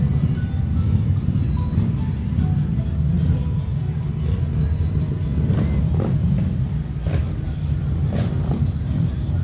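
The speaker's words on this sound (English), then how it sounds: "I think there's 22 motorcycles in here." A steady, loud low rumble of about 22 motorcycles running together in a Christmas parade in Gadsden, continuous throughout with no pauses, rolling past nearby.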